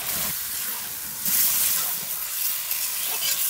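Spice paste of turmeric, chili and ginger-garlic paste frying and being stirred in a pan, a steady close sizzle and hiss with scraping stirs, briefly louder midway.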